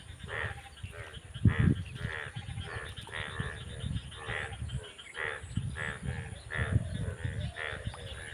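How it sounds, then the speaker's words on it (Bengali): After rain by a chili farm in Natore, Bangladesh, a chorus of frogs croaks in repeated, pulsing calls, some close and loud, others overlapping in the background. "আপনারা দেখেন ঘাপো ব্যাং ডাকছে"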